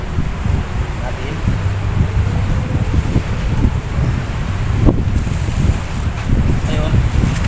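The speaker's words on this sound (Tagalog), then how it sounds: "Malakas ang hangin guys." Strong wind roars and buffets the microphone continuously while hand-line fishing, with water sloshing nearby and a voice talking faintly underneath.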